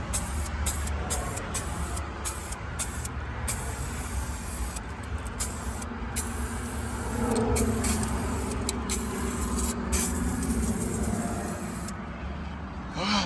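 An aerosol can of rust coating hisses in a steady spray onto a Nissan 300ZX, with brief pauses between bursts, close to the microphone, over a constant low background rumble.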